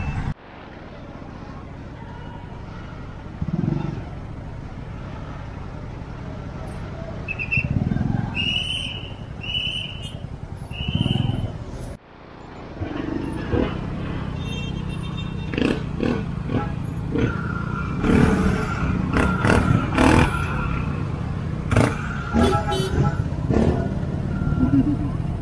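Street traffic in Manila's Binondo area with a jeepney, a loud, steady engine and road roar that carries on throughout, with brief horn-like tones and passing vehicle noise, and voices faintly audible beneath.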